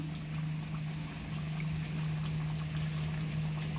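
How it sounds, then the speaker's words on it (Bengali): Kewra water is poured into a pot of chicken biryani, giving a steady, soft liquid pour over a low constant hum, with no voices. "এবার দিয়ে দিচ্ছি কেওড়া জল।"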